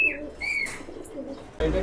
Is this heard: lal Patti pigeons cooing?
yes